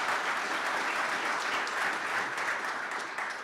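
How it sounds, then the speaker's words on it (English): Graduates of an engineering college receive a sustained, even round of applause from a large audience at a spring graduation celebration, the clapping continuous and filling the hall before easing slightly at the end. "So round of applause for our Masters of Science"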